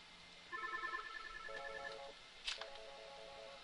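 Software phone call connecting in MaxCommunicator, with a series of short electronic dialing and ringing tones in quick stepped sequences, faint and clear with no talk.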